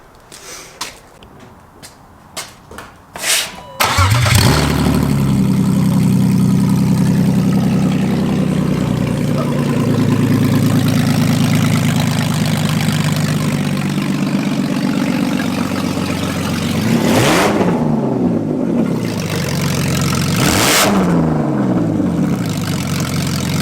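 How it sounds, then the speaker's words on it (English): A BMW E36 with its exhaust removed cranks over a few times and then catches, settling into a loud, raw, rumbling idle close by, with two sharp revs near the end that rise and fall. "gonna fire it up with no exhaust, just for the hell of it. See what it sounds like."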